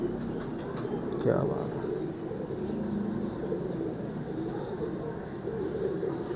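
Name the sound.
Kamgar pigeons cooing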